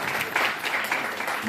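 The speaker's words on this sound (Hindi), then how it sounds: "जोरदार तालियां रिधान के लिए।" A short burst of applause at a painting competition prize announcement, many hands clapping together in a dense, steady patter.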